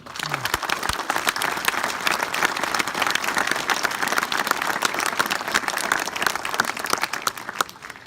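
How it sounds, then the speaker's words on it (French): Audience applause at an outdoor civic visit in Prats-de-Mollo, greeting a cobla band about to play sardanas; steady dense clapping fills the whole stretch at moderate level, with a brief low voice near the start. "Je crois qu'on peut les applaudir."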